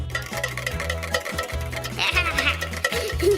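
Coloured water is mixed with gentle stirring during a walking water science experiment. The soft swirling and clinking are faint and brief, mostly buried under steady background music.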